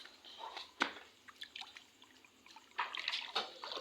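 Water drips and trickles at a rural water source near a hut, with scattered close drops and splashes over a quiet background, soft and uneven.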